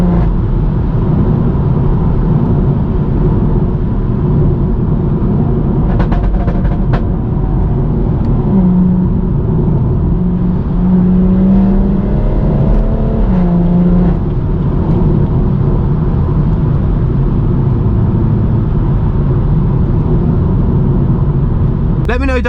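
A stage 2+ BMW M140i with a manual gearbox accelerates in comfort mode, its engine a loud continuous rumble with shifting pitch that climbs and drops across the drive, mixed with road noise while someone talks over it.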